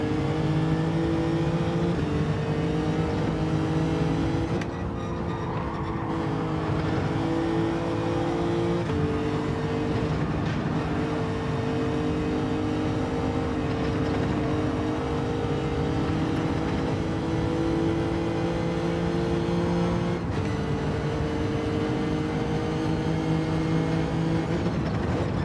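Race car engines in Gran Turismo 7, including a Lamborghini and a Lexus, droning steadily with a loud sustained whine that rises and shifts in pitch through gear changes, no pauses across the lap.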